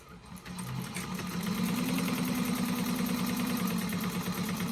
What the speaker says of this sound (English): And then we're going to sew that with a 1/4 inch seam allowance